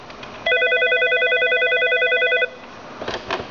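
An Avaya 11xx desk phone running Unistim firmware places a call. A loud, steady electronic tone with a fast pulsing flutter lasts about two seconds, and faint clicks and button taps follow.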